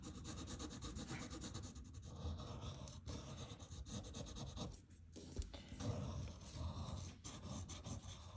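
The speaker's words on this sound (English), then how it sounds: "And if you want, you can just give a little rub in there" Steady dry rubbing of a finger or blending tool across paper while smoothing pencil shading on a portrait drawing, a continuous close scratchy friction with no talking.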